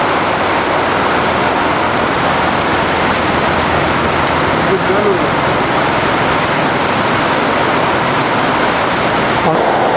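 Heavy evening rain pours down steadily, a loud, dense, unbroken hiss of water on surfaces that lasts throughout without any let-up.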